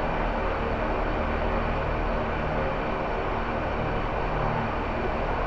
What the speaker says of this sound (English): press right shift home to start both engines